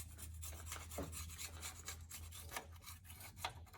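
A scraper rasps an old gasket and sealer off a Mopar transmission (727/904) on a Roadrunner, giving steady close-up scraping and rubbing strokes with no talking.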